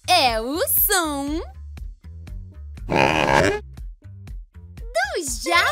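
A cartoon wild boar in a children's animal-sounds show gives a rough, throaty grunt in the middle, between squealing, voice-like calls, all close and loud over light background music.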